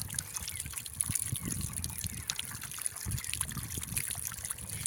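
Borewell water trickles steadily through a sand filter, a continuous close splashing dribble with scattered droplet spatters throughout and no talk.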